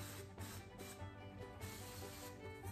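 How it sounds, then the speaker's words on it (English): Cooking spray hisses from a can onto a waffle iron before sourdough blueberry waffle batter goes in. The spray comes as a few close, quiet bursts of airy spitting in quick succession. "I'm gonna go ahead and spray my waffle iron"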